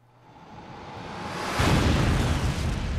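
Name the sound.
explosion in the video game 428 Shibuya Scramble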